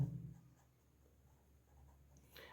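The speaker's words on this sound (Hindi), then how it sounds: "मैं क्वेश्चन नंबर 1 लिखता हूँ।" Pen or marker writing out a math problem for a calculus lesson on alternating series, a soft continuous scratchy stroke sound, close and quiet with no talking.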